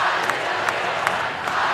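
Dense roar of a large Waukee high school basketball crowd cheering, a steady loud wash of voices with a few sharper peaks from individual shouts.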